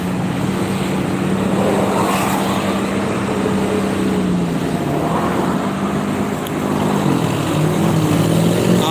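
A heavy vehicle's engine rumbles steadily on a congested Jakarta-bound toll road. The drone is loud and continuous, with a pitch that rises and falls gently as the engine works in stop-and-go traffic.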